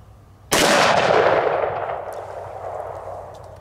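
A S&W Model 629 .44 Magnum revolver fires a single 245 grain full metal jacket round at a steel target, a sharp loud blast followed by a long ringing decay outdoors.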